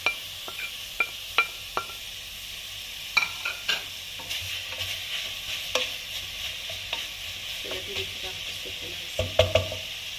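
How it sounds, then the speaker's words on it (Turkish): A soft steady sizzle of grated apples sautéing in a pot, with scattered spoon clicks and taps as the mixture is stirred, close and moderately quiet. "Tenceremin içerisine alıyorum. Ve bunu 1-2 dakika böyle soteleyeceğim."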